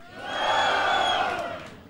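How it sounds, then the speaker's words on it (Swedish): An audience at a live show bursts into a loud, swelling cheer with whoops and shouts that peaks and then begins to fade. "Ja, så är det dags för kvällens andra jubel!"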